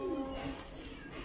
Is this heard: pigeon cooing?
yes